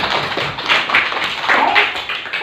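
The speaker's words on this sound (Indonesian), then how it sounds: "Tepuk tangan untuk kita semua." A classroom of children applauds together, steady dense clapping of many hands throughout, fairly loud and close.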